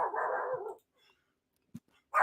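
A dog indoors gives one sustained loud bark, then falls silent, followed by a short faint woof and the start of another bark at the end.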